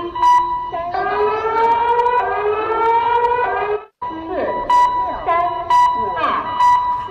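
China's emergency alert alarm: a loud wail rises and sweeps with overlapping tones, breaks off briefly, then resumes with sharp beeps and horn-like blasts.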